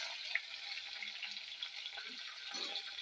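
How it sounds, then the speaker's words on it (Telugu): Chopped onion pieces go into hot tempering oil for a tangy chukkakura (sorrel) dal, giving a steady, close sizzle that crackles throughout, with a few soft clinks of stirring. "ఇప్పుడు మనకు పోపు అయితే వేగిపోయింది ఇందులో కట్ చేసుకున్న ఉల్లిపాయ ముక్కలు"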